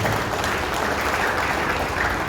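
A crowd claps in sustained, dense applause at an anniversary celebration of the SPSI brigade in Indonesia, loud and steady throughout with no pause.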